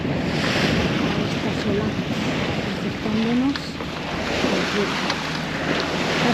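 Strong wind buffets the microphone over rough, breaking sea waves aboard a sailboat off a southern coast, a loud continuous roar with surging swells and no one talking.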